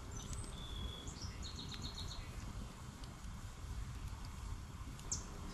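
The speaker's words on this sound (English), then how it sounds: "You hear animals going, you hear the birds going." Birds chirp and trill around a campsite in the woods: scattered high calls and short repeated notes over a steady low outdoor rumble, distant and faint, with no one talking.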